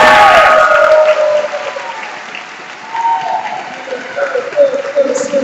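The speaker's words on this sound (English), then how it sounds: "And everyone, please give a round of applause." A graduation ceremony audience claps for the standing class of 2023, a close, fairly loud burst of applause mixed with a voice over a speaker system, dipping briefly in the middle before picking up again.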